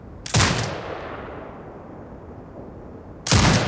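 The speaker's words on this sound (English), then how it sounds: "Exit binocular mode and command the turret to fire." Turret gunfire in the video game Sniper Ghost Warrior Contracts 2, two loud, sharp, booming shots about three seconds apart, the first trailing off in a long echoing decay, with no voices.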